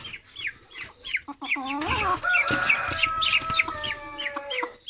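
A hen clucks near her chick in a farmyard nest where she has laid eggs, giving rapid close clucks followed by a long drawn-out squawking call, with chick peeps and rustling around it.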